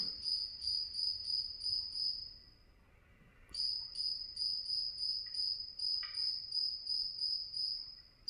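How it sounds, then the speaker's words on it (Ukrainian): Crickets chirp in rapid, high trills, pausing briefly near the middle before resuming steady and clear against a quiet background. "Вона називається ця комашка цвіркун."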